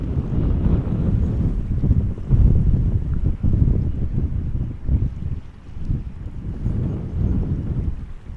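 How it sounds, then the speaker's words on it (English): Strong gusty crosswind, about 19 knots from 240 degrees, at Amsterdam Schiphol Airport during arrivals, roaring and buffeting steadily across the microphone with low rumbling surges throughout and no speech. "19 knot winds from 240 is what we've been having for a while now."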